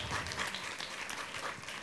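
An audience at a literary event breaks into dense, continuous applause, a brief burst of many hands clapping together.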